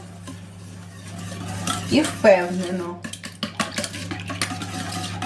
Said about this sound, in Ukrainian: Зараз яйця збила.